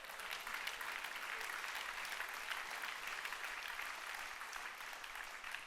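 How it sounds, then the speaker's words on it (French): A church audience breaks into steady, sustained applause, many hands clapping together at a moderate distance, even in loudness throughout with no one speaking over it. "c'est toi qui viens d'applaudir"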